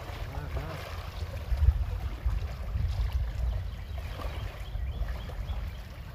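Low, irregular sloshing and lapping of water against a boat hull on the Da River, close by, with a soft breezy rumble underneath.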